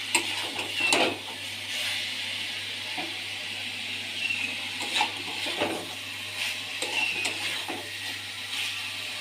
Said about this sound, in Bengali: কষাতেই থাকবো এইভাবে।